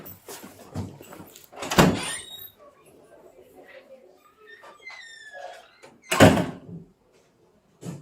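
A door is pulled open during a shoplifting arrest, with a couple of heavy thunks and a rattling clack close by, mixed with shuffling movement and brief voices.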